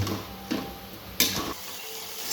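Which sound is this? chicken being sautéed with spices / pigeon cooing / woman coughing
chicken being sautéed with spices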